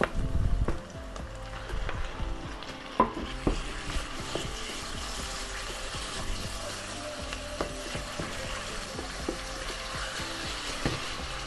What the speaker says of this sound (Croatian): U luk dodamo isjeckano meso.